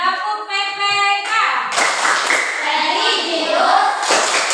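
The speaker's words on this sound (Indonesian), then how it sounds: "Ya, tepuk PPK." A class of children in an Indonesian school performs the rhythmic tepuk PPK clapping chant, sharp hand claps in patterned bursts mixed with children's voices chanting, loud and close throughout.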